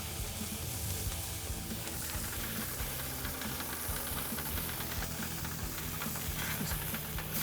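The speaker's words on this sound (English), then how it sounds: "I have here some water on the griddle. It's boiling, so it's generating some steam." Water boils and steams on a hot BBQ griddle beside burger buns and patties, a dense continuous sizzling hiss, loud and close, with no pauses.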